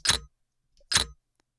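Two short, bright clicks of household plastic and metal as a high-frequency gunshot sound-design layer, each a crisp tap about a second apart, with faint tiny ticks between them.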